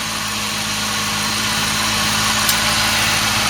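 A Ford Thunderbird's 4.6 V8 idles steadily and close up, with a smooth, even rumble throughout and no voices.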